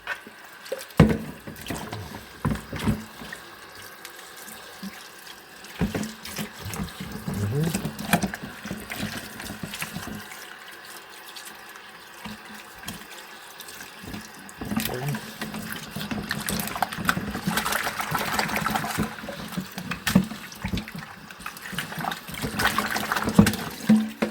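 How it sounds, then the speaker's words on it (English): Snapper rinsed several times under a running kitchen tap, a continuous hiss of flowing water broken by irregular clattering and handling clicks throughout. "All right, so rinse it off a few times."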